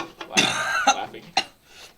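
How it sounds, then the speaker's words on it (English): A person coughs in several short, harsh bursts, close and loud, the rough coughing shading toward laughter, with a brief gap between the bursts. "You coughed all over our face."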